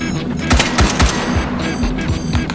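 A gun firing in the VR shooting game H3VR, a run of about six sharp, close shots at an irregular pace, loud against a steady background hum.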